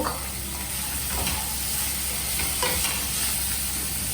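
Corn, mushroom and capsicum fry over a high flame, giving a constant loud hiss and crackle of sizzling with a few stirring scrapes mixed in, close up and without voices.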